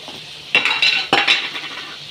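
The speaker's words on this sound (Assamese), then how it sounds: "এতিয়া ওলট পালট কৰি দিম।" Vegetables frying in a pan with turmeric and salt are stirred and turned over with a metal utensil, giving two sharp scraping clinks against the pan over a soft sizzle, close and without talking.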